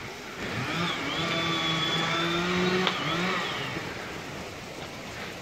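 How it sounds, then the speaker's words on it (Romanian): A steady mechanical whine with wavering pitch drones at a distance from chainsaws running together in Romania's Făgăraș Mountains, over broadband outdoor noise. "Se aud drujbele."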